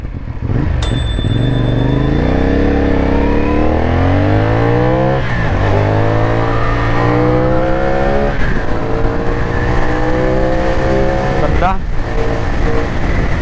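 A CF Moto 450NK motorcycle engine revs and accelerates with rising pitch, easing off and climbing again through gear changes for over ten seconds, loud and close, with a short bell-like ping near the start.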